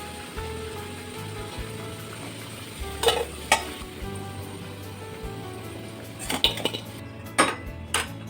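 Fried potatoes are scooped from an oil-filled pan with metal utensils, producing scattered clanks, scrapes and sharp taps against the pan over a faint continuous sizzle.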